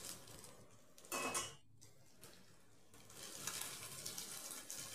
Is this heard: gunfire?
no